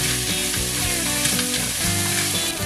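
Chicken fajita filling with onion, corn and green vegetables sizzles loudly in a hot pan while being stirred, a steady crackling hiss with occasional scraping of the spoon.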